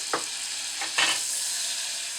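Butter melting and sizzling softly in a pan on a stovetop over low heat for popcorn, a steady hissing fizz with a few brief louder crackles, close and alone.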